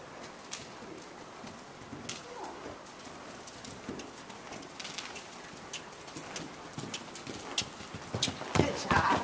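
A gaited horse canters over jump boxes in an outdoor lesson, its hoofbeats soft and irregular beneath birdsong and pigeon coos, growing a little louder toward the end.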